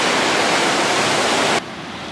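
A waterfall on a hiking trail at Mill Creek Falls roars as a dense, steady rush of water, loud and close, then drops abruptly to a softer level near the end.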